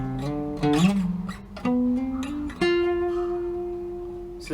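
Guitar playing a solo from Udta Punjab slowly, a few sustained notes with slides and bends, each note ringing out and decaying, close and moderately loud with no talking.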